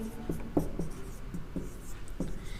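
A pen scratches out a maths solution in short, quiet strokes with small pauses between them, over faint room noise.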